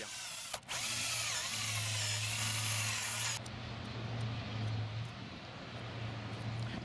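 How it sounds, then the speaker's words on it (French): Power drill boring into a wooden wolf sculpture to deepen its nostrils, a loud steady high whine for a few seconds that cuts off, leaving a lower mechanical hum alone. "les narines sont approfondies avec la perceuse"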